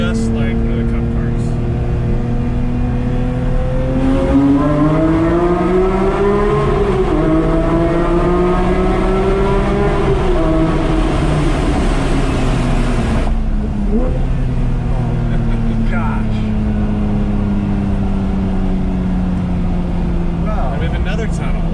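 Porsche 911 GT3 with manual gearbox accelerating hard, a loud, high-revving flat-six wail climbing through the gears with a shift dip, echoing as if in a tunnel, heard from inside the car with the window down.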